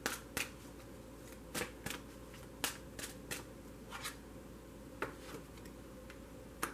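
Angel guidance cards are shuffled quietly and close by, with a series of soft, crisp riffles and flicks coming in irregular bursts over a hushed background.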